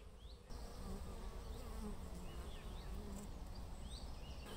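Steady buzzing of many bees around apple blossoms heard close by, a continuous drone with occasional louder passes of individual insects, no voices.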